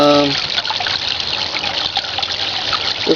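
Water runs steadily through a tabletop drop trap sluice with an uneven, goofy flow, a continuous close trickling and gushing that stays fairly loud throughout, with a brief tonal tone at the very start.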